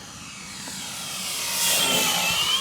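An FMS F4U Corsair, a 1.4 m RC model airplane, flies past with a steady engine hum that rises slowly as it draws nearer. Wind hiss runs underneath, and no one talks.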